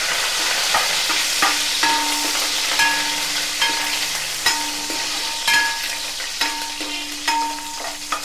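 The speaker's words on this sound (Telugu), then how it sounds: "ఇదిగోండి కొంచెం వేగుతున్నాయి కదా" Ingredients for mutton keema biryani, including curry leaves, fry in a pan with a steady crackling sizzle, punctuated by regular metallic taps and scrapes from a stirring spoon, and no voices.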